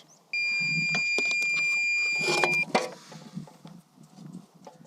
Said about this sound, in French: Quand ma sonde va biper, c'est qu'elle rentre en contact avec le niveau d'eau.